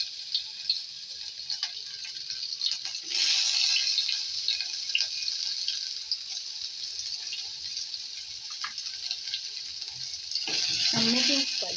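Tuna frying in a pan, giving a steady, faint hiss of sizzling oil that swells louder near the end.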